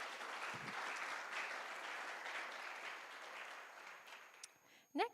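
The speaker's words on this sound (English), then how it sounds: "if we want to give a round of applause for Yasmin and Sunshine" Audience at a guide dog school graduation applauding a graduate and her guide dog, sustained even clapping that gradually thins out, ending with a short voice onset.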